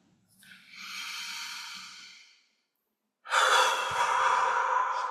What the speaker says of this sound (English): with the next inhale, and a long, smooth exhale